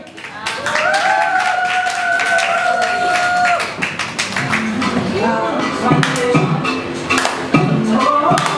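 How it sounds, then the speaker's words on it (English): A crowd claps for a new crew at a Christmas kids event, with sustained, fairly loud applause and taps that carry on while a voice talks over it at first. "Can you guys give a round of applause for the new Vibes crew today?"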